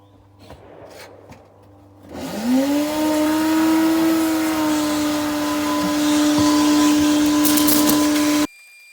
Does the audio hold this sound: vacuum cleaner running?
yes